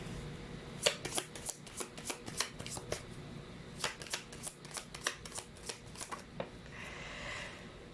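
Tarot cards are shuffled by hand in quick, rhythmic riffling bursts, close and crisp, and then a card is slid out at the end. No voices are heard.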